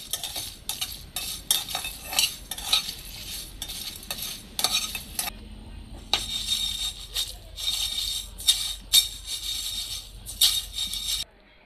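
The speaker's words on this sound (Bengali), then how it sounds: "এবার আমি এটাকে ভালো করে ভেজে নেব।" Whole spices fry in a pan over medium heat for mango chutney, a utensil scraping and stirring in repeated bursts against a steady sizzle, close and clear with no talking.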